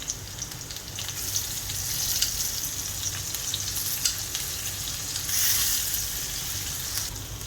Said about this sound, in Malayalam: എന്നിട്ട് 1 മിനിറ്റ് ഇതുപോലെ വഴറ്റി കൊടുക്കാം.